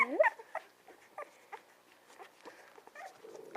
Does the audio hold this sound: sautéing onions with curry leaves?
no